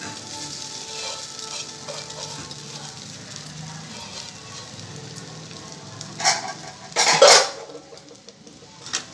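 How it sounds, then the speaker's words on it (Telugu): White rice is stirred into egg and chicken frying in a pan for chicken fried rice. A soft, steady sizzle runs throughout, and near the end come several loud metallic scrapes and clanks of the spoon. "ఇప్పుడు దీంట్లో వైట్ రైస్ కలుపుతున్నాను"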